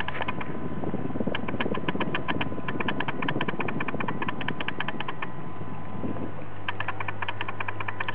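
A homemade Newman motor with a weighted rotor and smooth winding runs at 210 RPM, giving a steady mechanical hum with fast, regular ticking pulses close by and no voices.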